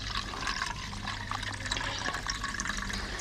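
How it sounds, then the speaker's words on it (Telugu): Soaked rice water poured steadily into a bowl, a continuous close splashing and trickling stream with no talk over it. "ఆ బౌల్ లోకి మనం 20 నిమిషాల ముందే నానబెట్టుకున్న ఈ రైస్ వాటర్ ని పోసుకోవాలి"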